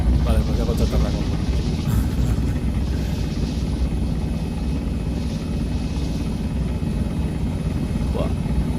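Helicopter landing in the military game Arma 3: a steady, loud rotor and engine drone holding throughout without a break, with faint voices occasionally underneath.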